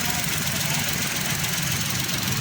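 A Honda Zest scooter engine idles after misfire repair and throttle body cleaning, a steady, loud, even mechanical drone with no speech.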